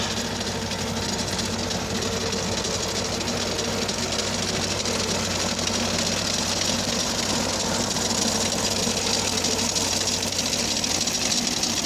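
Loud, continuous tractor engine drone with a steady rattling, churning texture as it pulls a rotary tiller through soft soil, unbroken throughout with no voices.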